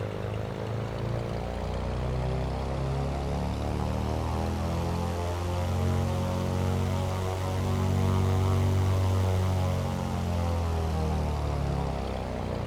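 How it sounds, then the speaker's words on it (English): Black Square A36 Bonanza piston engine running up on the ground in MSFS 2024, a loud, steady propeller drone that swells gradually in pitch and strength and then holds, close and continuous with no talk. "Run the engine up a little bit."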